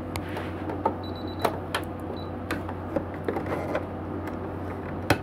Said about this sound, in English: Now we want to go ahead and allow the key fob part to stitch out.